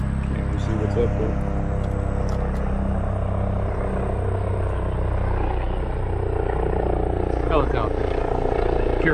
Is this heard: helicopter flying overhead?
yes